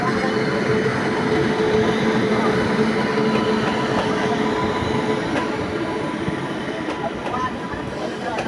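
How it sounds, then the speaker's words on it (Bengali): An empty WAP-7 electric locomotive running light engine toward the Santragachi car shed, giving a steady, fairly loud broadband rumble of rolling rail noise that stays constant throughout, with faint clicks from the track. "ওয়াপ 7 ইঞ্জিন,"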